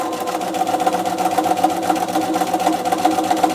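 Sewing machine stitching through fabric pieces while foundation piecing diagonal curves, a steady, close, continuous mechanical whir with rapid needle rhythm running throughout without pause.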